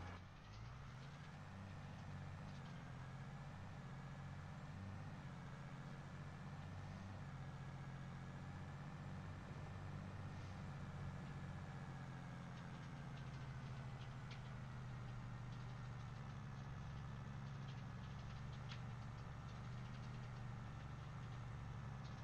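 A 9RX tractor engine in a farming video game drones at a steady idle-like rumble, low and continuous with a faint mechanical hum, holding an even level throughout with no talk.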